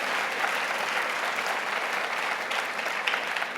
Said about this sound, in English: please, another round of applause for Jack Ma for that really, truly inspirational insights